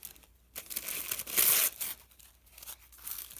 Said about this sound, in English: I guess I should rip a few more small pieces.